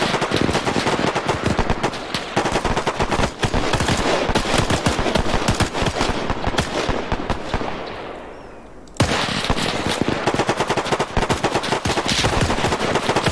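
An MG42 machine gun in the video game Arma 3 fires loud, relentless, rapid bursts that run almost continuously, with only a brief lull before the fire resumes just as intensely.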